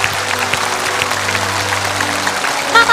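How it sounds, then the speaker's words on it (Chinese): Audience applause at a televised variety show, a steady, moderately loud patter of many hands running throughout over a low background hum, with a faint tonal sound creeping in at the very end. "鼓掌。"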